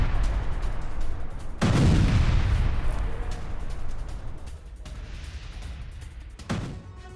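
Ukrainian army artillery fire near Kharkiv booms out in heavy, rumbling blasts, one large detonation followed by rolling echoes and a few further distant thuds, with no voices.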